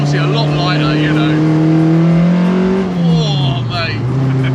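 A 240 bhp ex-racing Mk1 VW Golf on twin 45 carburettors revs hard from inside the car, its engine note climbing and sustaining a loud rasping howl, then dropping and rising again, with a voice talking over it.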